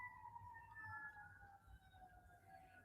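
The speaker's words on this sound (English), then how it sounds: "Police sirens." Police car sirens wail faintly in the distance, a steady falling tone heard outdoors across a quiet residential area with no voices.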